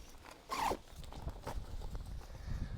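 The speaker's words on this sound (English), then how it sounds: "you've got a zip at the front" A zip on a wildlife photography hide tent is pulled open in one quick, close rasp, followed by fainter fabric rustles over a low background rumble.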